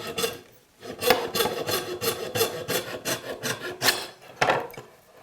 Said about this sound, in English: I've got a really fine blade that will leave a really clean cut